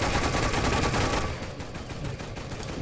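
Anti-aircraft guns in Toy Soldiers fire in a steady, dense rattle that holds loud for about a second, then drops to a lower, continuous rumble of shots.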